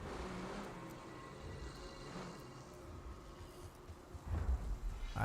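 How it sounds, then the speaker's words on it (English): A car engine in the Call of Duty Zombies video game gives a steady, low rumbling drone that swells louder near the end, with no speech over it. "I hear a car."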